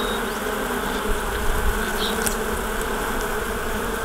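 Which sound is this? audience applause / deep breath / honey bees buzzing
honey bees buzzing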